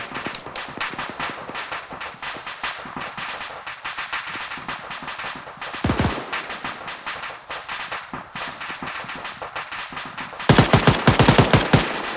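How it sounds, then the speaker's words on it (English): Rapid, loud automatic gunfire in the military game ArmA 3, long rattling bursts of closely spaced shots with brief pauses, and a heavier, faster burst near the end. "What are they shooting at?"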